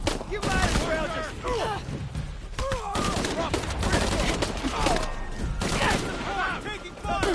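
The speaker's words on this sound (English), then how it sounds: "Taking fire!" Gunfire crackles through a battle in the video game Shadow of the Tomb Raider, with dense, continuous volleys of shots and loud action filling the whole stretch while voices talk over it.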